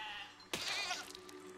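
A single sheep bleat from the video game Besiege, a short wavering cry that starts abruptly and fades within about half a second, heard clearly over quiet game background.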